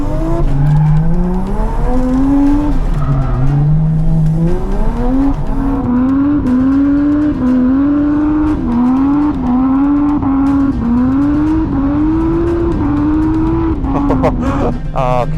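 A car drifting on a Japanese touge mountain road, its engine revving and falling in repeated rising pulls while tires squeal through each slide, loud and close for the whole stretch, with a brief voice near the end.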